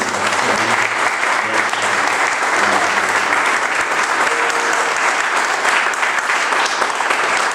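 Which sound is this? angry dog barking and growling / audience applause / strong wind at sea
audience applause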